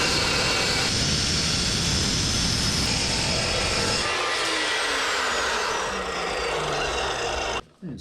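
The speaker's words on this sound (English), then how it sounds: "actually just a really nice carbide tip chop saw" A carbide-tipped chop saw cuts through bicycle seatpost tubing with a loud, continuous grinding whine. Midway the blade's pitch sinks as it spins down, then the sound cuts off sharply near the end.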